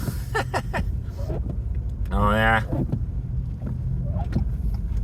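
A front-wheel-drive car travels on winter roads outside town, giving a constant low rumble of engine and road noise with wind buffeting, while someone speaks briefly over it from inside.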